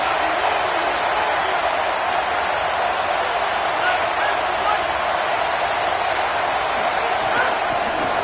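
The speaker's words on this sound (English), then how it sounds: "Decibels rising as the crowd gets behind this defense on 3rd down." Stadium crowd roaring on 3rd down in the College Football 27 video game: a constant, loud, broadband wash of crowd noise holding steady throughout, with no clear individual voices standing out.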